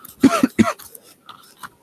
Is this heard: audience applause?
no